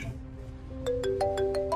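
A phone rings with a rising run of bright electronic ringtone notes, starting after a brief quiet hum and repeating quickly.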